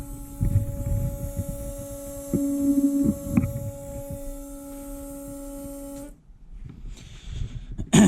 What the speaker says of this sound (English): my fuel pump that is very, very noisy